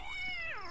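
A single brief cat meow in the horror video game The Visitor, a smooth falling cry that is clear and fairly close.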